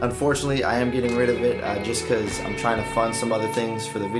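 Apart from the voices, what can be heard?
No everyday noise stands out behind the speech.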